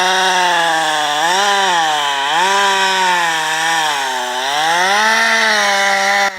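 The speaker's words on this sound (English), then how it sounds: "The sharp chainsaw screamed, its blade biting deep into the dense wood." A sharp chainsaw cuts deep into a dense tree trunk in a forest, its engine screaming steadily and loudly, the pitch dipping and rising repeatedly as the chain bites into the wood.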